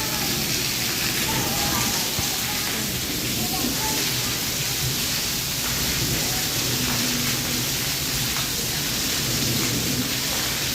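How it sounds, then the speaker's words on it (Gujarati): Dense, heavy rain pours steadily on a village house, a constant loud hiss with low rumbles beneath and faint voices buried in the downpour. "ગામડે આવ્યા ને ફૂલ વરસાદ ચાલુ છે"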